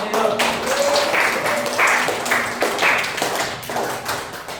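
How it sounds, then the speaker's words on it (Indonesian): Children and a teacher clap hands together during a grade 5 physical education lesson on throwing and catching balls, a steady run of sharp claps over about five seconds, fairly close and mixed with background voices. "kita tepuk tangan dulu tuh"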